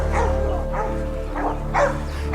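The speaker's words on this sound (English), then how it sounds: "announcing this with a type of excited bark that hunters call baying" Hunting dogs bay excitedly at a cornered wild hog in South Texas brush, a loud close run of repeated yelping barks in uneven bursts, with no talk over them.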